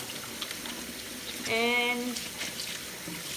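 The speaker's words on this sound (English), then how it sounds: "I'm gonna wash my hand." Tap water running while hands are washed in a kitchen, a steady splashing hiss with a brief tonal whine near the middle and a voice speaking briefly.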